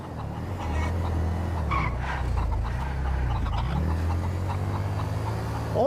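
A vehicle travels at a good speed, its low engine drone steady and close throughout, with tyre and road noise layered over it and no talking.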